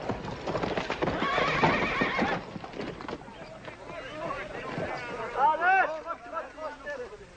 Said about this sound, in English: That's what I call riding a horse.